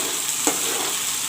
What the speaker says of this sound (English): Friends, now I will fry the onions. I have taken bay leaves. This also I will put in.